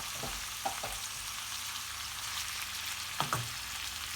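Chopped onions, garlic and kapya and sivri peppers frying in a pan, a steady broadband sizzle throughout with a few short clinks or stirs near the start and again late.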